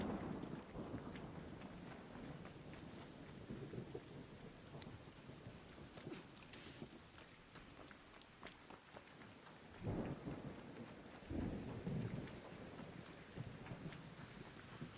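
In a video game's electromagnetic storm, rain hisses steadily while low thunder rumbles swell and fade, with heavier bursts near the end; no one speaks.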